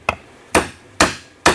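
A hammer strikes a leather punch, driving it through leather while cutting holes for an axe mask: four sharp, loud, close knocks in quick succession, the first lighter, each with a short ringing decay.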